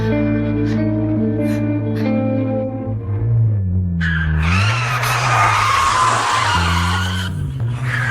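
Car tires skidding and squealing as the car speeds off, loud and sustained over a droning engine, with a sweeping pitch that rises and falls through the middle.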